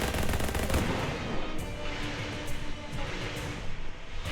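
A gun fires in the video game Shadows Over Loathing, producing dense, loud cracking bursts at the start that fade into a lingering rumble and scattered echoing pops.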